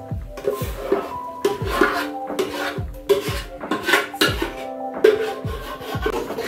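A spoon works through sambar mixed with paste and potatoes in a pot, making rhythmic scraping and knocking strokes against the metal, close and fairly loud. No one speaks.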